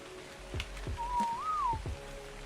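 A character whistles a short rising-and-falling tune in Ark Survival Ascended, a single clear melodic line over a soft background patter and low rumble.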